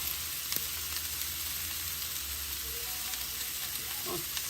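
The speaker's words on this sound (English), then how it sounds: "we're gonna let it roast" Chicken gizzards seasoned with salt and ginger powder roast in a pan, giving a continuous soft frying sizzle with light stirring scrapes near the end, moderately quiet and without speech.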